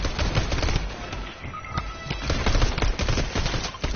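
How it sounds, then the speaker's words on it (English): Rapid gunshots crackle in dense bursts, sharp reports overlapping amid continuous noisy background clatter, fairly loud throughout. "I hear a pistol."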